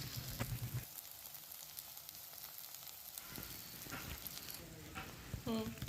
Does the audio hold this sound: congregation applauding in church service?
no